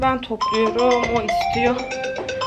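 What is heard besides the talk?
phone ringing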